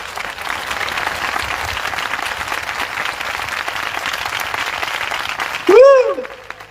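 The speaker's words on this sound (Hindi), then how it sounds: "आइए यीशु के लिए जोरदार ताली बजाएंगे।" A church congregation applauds loudly and steadily for several seconds during a worship service, the clapping then cut off as a voice rises briefly over the last of it.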